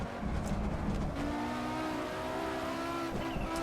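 A Group B rally car on the Nordschleife brakes hard into a hairpin, the engine droning then dropping through the gears with a rising pop and rev, loud and close with no talking.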